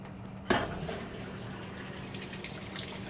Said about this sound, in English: Filling up with water.